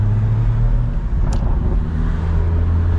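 A BMW M3 with a loud exhaust drives through Hollywood at night, giving a steady, close engine drone and low rumble that continues for the whole stretch with no voices over it.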